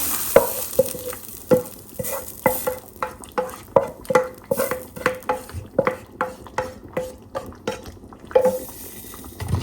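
Fried garlic and onion are stirred into cooked mutton in a pan, a soft sizzle beneath regular scraping strokes of a spoon, roughly two per second, close and steady with no voices.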